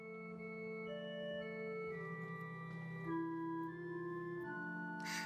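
A Rodgers 351 organ playing sustained chords with the melody swell on, the held notes shifting as the top voice moves, steady and clear with no talking.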